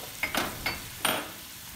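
Flour is stirred into melted butter in a hot pan, giving four short scraping, sizzling strokes in an uneven rhythm over a steady low frying hiss.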